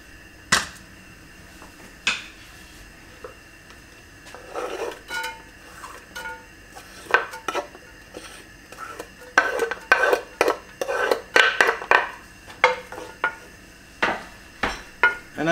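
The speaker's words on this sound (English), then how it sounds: "I'm going to start by sauteing the onions over 3 tablespoons of olive oil over medium heat." Onions sautéing in three tablespoons of olive oil over medium heat in a pan, heard as scattered clinks and scrapes of a utensil against cookware with a faint sizzle underneath, growing busier toward the end.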